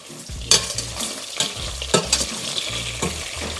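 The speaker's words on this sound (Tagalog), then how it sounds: "Halu-haluin nyo lang sandali." Pork belly frying in its own rendered fat in a pan, with a utensil stirring through it: sharp scraping strokes about once a second over a constant close sizzle, with no talking.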